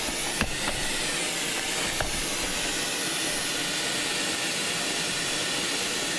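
A torch roars with a steady broadband hiss, heating and burning out lead filler along a seam on an old car dash. The hiss stays close and constant, with a couple of brief clicks near the start and no talking.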